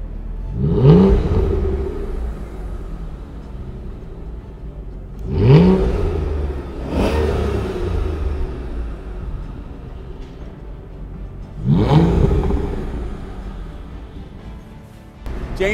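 A 2007 Aston Martin DB9 engine starts up and revs, three loud swelling bursts of exhaust roar each fading back to a deep idle rumble, heard close without talk.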